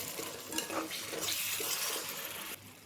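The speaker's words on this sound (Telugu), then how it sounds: "ఇప్పుడు మంచిగా కలుపుకోండి మళ్ళీ ఒకసారి." Wet, steady scraping and swishing as ivy gourd masala gravy curry is stirred in a pan, with a soft sizzle underneath and no talking.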